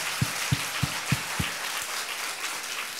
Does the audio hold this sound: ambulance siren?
no